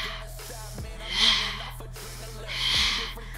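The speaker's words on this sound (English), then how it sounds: "Exhale." A woman exhales sharply twice during a lower-body strength workout, each a forceful, breathy rush of air close to the microphone about one and a half seconds apart, with quiet breathing and a little low voice in between.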